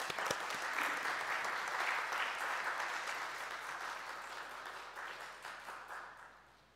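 Welcoming applause from a lecture audience at a Catholic forum in Jeju, greeting a sociology professor emeritus; steady full clapping fills the room and slowly fades toward the end.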